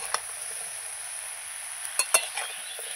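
Turmeric and spices are stirred in a cooking pan, giving a quiet, steady sizzling hiss broken by a few brief utensil scrapes and clicks.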